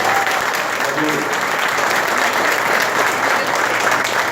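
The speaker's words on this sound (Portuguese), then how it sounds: "Vamos aplaudir o Senhor." A standing church congregation claps together at a solemn evangelical ceremony, producing a dense, sustained wash of applause that fills the room at steady volume, with voices faintly mixed in.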